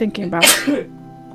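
A single sneeze bursts out mid-sentence, loud and close, with speech directly before and after it.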